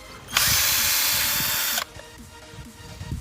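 An INGCO cordless drill unscrewing a screw whirs loudly at a steady pitch for about a second and a half, then stops abruptly, leaving quiet background noise.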